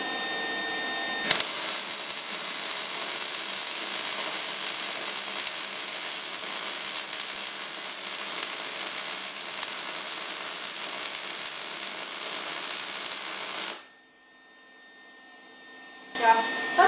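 A MIG welder arcing on metal, a loud continuous crackling sizzle that starts abruptly and runs steadily for about twelve seconds before cutting off, followed by a brief quiet gap and a short restart.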